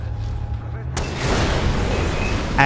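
Dense burst of rapid gunfire and rumbling blasts from Far Cry 4, loud and continuous after a quiet start.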